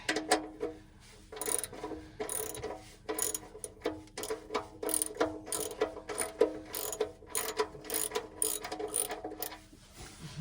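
Ratchet wrench snugging down the oil drain plug on a 1992 Ford F150, giving rapid runs of close, crisp clicks in uneven bursts with brief pauses between strokes.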